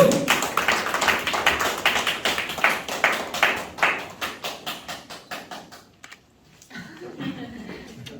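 A church congregation gives a round of applause, dense rhythmic clapping that fades out over several seconds, followed by a quiet gap and then faint talking.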